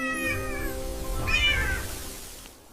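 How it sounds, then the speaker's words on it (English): A cat named Tommy gives two drawn-out, clear meows in close succession, the first gently rising and the second louder and higher before fading, with no talking over it. "This is Tommy the cat."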